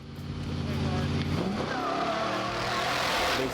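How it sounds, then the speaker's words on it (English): Off-road race cars at the Baja 500 start in Ensenada rev hard and take off, a loud continuous engine roar that climbs in pitch as they accelerate, with crowd noise and voices mixed in. "Ensenada is synonymous with the roar of thundering engines, revved up to the red line by overzealous daredevils"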